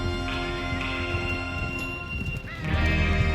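Horse hooves clip-clopping steadily with a horse neighing, layered over a busy synthetic game soundscape in Red Dead Redemption 2.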